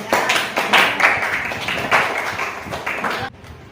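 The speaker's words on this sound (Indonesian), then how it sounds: "Tepuk tangan untuk kelompok 2." A classroom group of students and teacher claps for a presenting group, irregular hand claps rising and falling for about three seconds before stopping abruptly.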